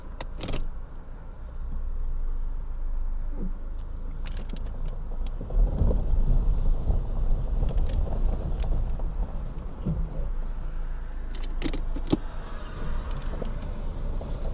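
A Renault Megane 1.6 with automatic transmission driving, steady low road and engine rumble inside the cabin with scattered clicks and rattles, no talking.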